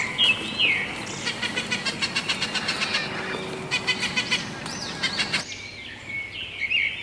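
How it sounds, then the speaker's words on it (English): A parrot calling in a children's alphabet lesson: repeated chirpy, squawking calls in rhythmic bursts, fairly loud and close, over a busy, steady background. "P for parrot."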